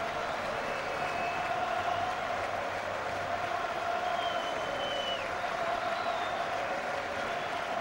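A rugby crowd at Gloucester's Kingsholm ground applauds as the teams come out, a steady wash of clapping and cheering with a few whistles, continuous throughout.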